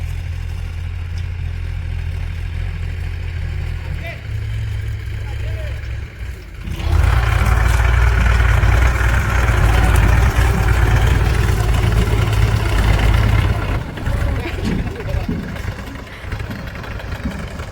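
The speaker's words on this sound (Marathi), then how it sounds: "चालू ट्रॅक्टरचा आवाज ऐकला" A running tractor idles nearby with a steady low rumble that grows louder and heavier partway through, then eases back a little, with talk over it.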